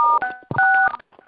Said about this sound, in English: I want you to press star 6 right now on your phone.